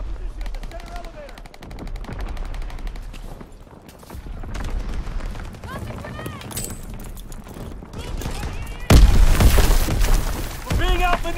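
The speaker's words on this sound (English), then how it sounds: "Suppressing fire!" Heavy suppressing gunfire in a Call of Duty WW2 multiplayer match at Flak Tower: rapid machine-gun bursts and scattered shots crackle throughout, with shouted voices over the battle and a loud burst of fire near the end.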